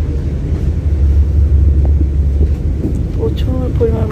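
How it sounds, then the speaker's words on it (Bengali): Strong wind on a village morning in Barishal blows hard against the microphone as a steady, loud, low rumbling roar that holds throughout, and a voice briefly surfaces near the end. "প্রচুর পরিমাণ বাতাস।"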